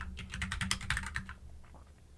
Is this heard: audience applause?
no